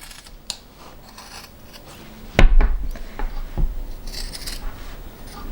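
Scissors snip through fabric pieces for a lined hanging pouch, a few crisp close cuts with rustling of cloth, alone without talk.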